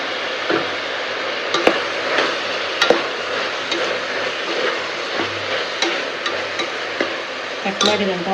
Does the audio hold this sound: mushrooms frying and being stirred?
yes